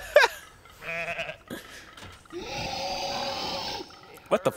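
Loud cartoonish goat bleats from the video game Goat Simulator, sharp cries at the start and end with other game noises and a longer bleat in between.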